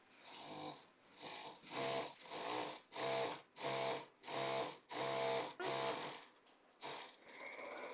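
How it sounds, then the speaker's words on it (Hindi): A sewing machine stitches along the kali panels of a full-flare kalidar plazo in about nine even, rhythmic bursts, loud and close, with short pauses between runs. "अब हमें यहाँ पर हाफ इंच दबाते हुए पूरी कली में हमें स्टिच लगाना है"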